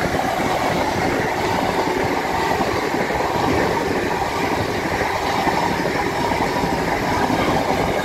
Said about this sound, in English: First train.